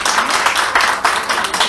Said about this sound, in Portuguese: uma salva de palmas para o Cleiton